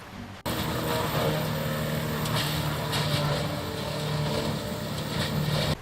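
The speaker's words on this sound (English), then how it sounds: "The Moorbark 1100 is a mid-sized tub grinder, but don't let mid-size fool you here. This machine is a certified wood annihilator." A Morbark 1100 tub grinder driven by an 800-horsepower Cat engine runs steadily while grinding logs and stumps, a loud, continuous mechanical drone with a sustained hum and intermittent crunching bursts.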